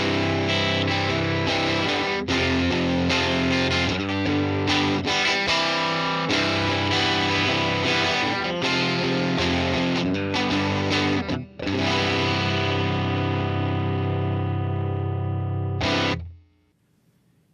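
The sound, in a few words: guitar through Fender Tone Master Pro UK30 Normal amp model, Vox AC30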